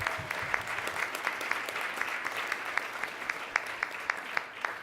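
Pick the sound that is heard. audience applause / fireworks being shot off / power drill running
audience applause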